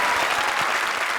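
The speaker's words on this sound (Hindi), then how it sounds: "और प्रिंस के लिए एक बार फिर से जोरदार तालियां।" An audience on a comedy show stage claps in a dense, steady burst of applause with no pauses, loud and close.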